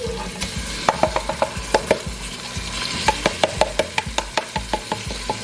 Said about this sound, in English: That's kind of when you want to start adding your rice.